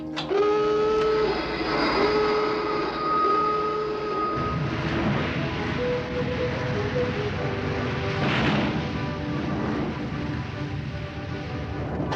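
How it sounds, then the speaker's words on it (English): Submarine blowing its main ballast tanks to surface: a loud, rushing roar of high-pressure air that swells and persists, with tonal machinery hum early on and brief voices mixed in. "Blow all main ballast."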